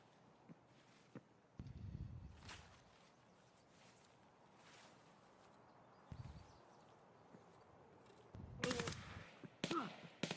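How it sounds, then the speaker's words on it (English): Video game gunfire: scattered bursts and single shots crack out over a low noisy background, with a louder cluster of rapid shots near the end. "Oh, he's shooting at me now?"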